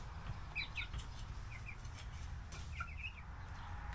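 Young chicks, a Chocolate Orpington and a Silver Lace Wyandotte, give a few soft, high chirps and peeps over a low steady background hum.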